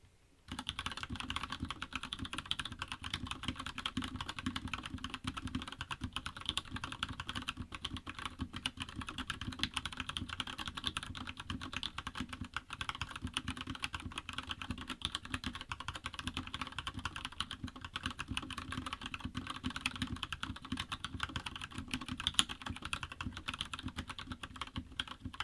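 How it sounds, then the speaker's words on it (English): Fast, continuous typing on an Anne Pro 2 wireless 60% mechanical keyboard fitted with brown switches, a dense, steady clatter of keystrokes running without pause for the whole stretch, close and moderately loud, with no talking. "And here's how the keyboard sounds. This is me doing a typing test on 10fastfingers.com."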